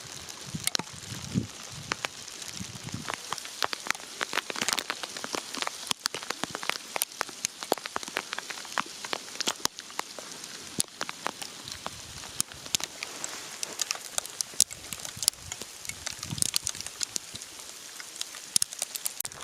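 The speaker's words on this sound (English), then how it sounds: "The hail's starting to get bigger." Hail falls on slick rock in the Utah desert near Arches National Park, a dense, crackling patter of scattered hits and sharp ticks that continues steadily, with no voices.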